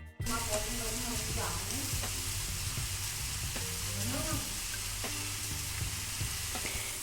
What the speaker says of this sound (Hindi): अब ये मेथी की सब्जी बनके तैयार हो रही है। मेथी के साथ कुछ आलू डाल दिया गया है।